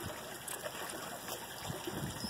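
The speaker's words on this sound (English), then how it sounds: "it is that little leakage of water that is draining my pond" Water trickles faintly and steadily from a small leak draining a backyard pond, a soft continuous dribble close by with no other sounds.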